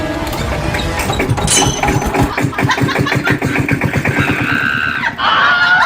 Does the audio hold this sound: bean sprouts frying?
no